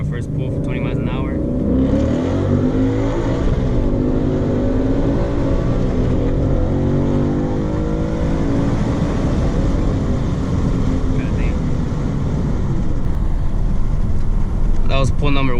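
A 2015–2017 Ford Mustang fitted with the Ford Performance Power Pack 3 accelerates hard on a roll from 20 mph, its engine note climbing loud and close through the gears with wind rushing past.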